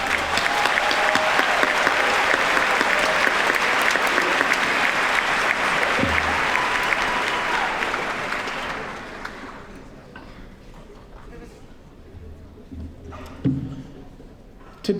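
A large crowd at a Cleveland Heights High School commencement applauds the students' achievements, loud sustained clapping that fades out after about eight seconds, leaving scattered claps and room noise.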